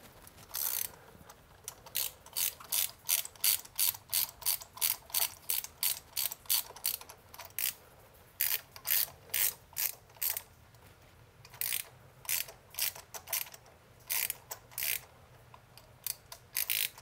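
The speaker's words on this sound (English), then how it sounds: "use your ratchet and socket, plug it into your spark plugs, make sure it clicks, there you go, and crank left" A ratchet and socket loosen the spark plugs on a Mazda MX-5 Miata. Steady, close, crisp ratcheting clicks come in rapid strokes with brief pauses between them, and no voices are heard.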